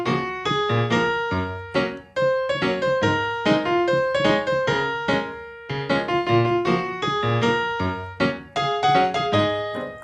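Solo piano plays the verse of a song, with rhythmic repeated chords and melody at a moderate pop tempo, close and clear with brief pauses between phrases.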